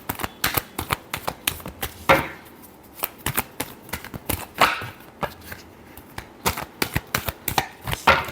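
Tarot cards are shuffled by hand in a rapid series of crisp riffling slaps and taps, close and alone, with brief pauses between bursts.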